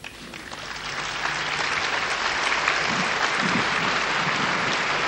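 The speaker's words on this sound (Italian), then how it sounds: "la folle applaude il Papa dopo la sua omelia" A large outdoor crowd applauds Pope John Paul II after his homily in the Susa Valley. The clapping swells from moderate to a loud, sustained roar of many hands, with no speech.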